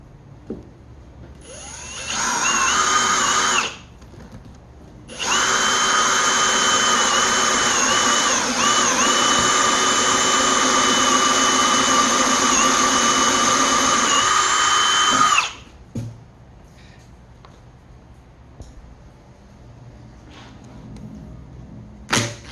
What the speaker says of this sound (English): make sure that you drill a pilot hole or it's gonna split out. And then I'm also countersinking it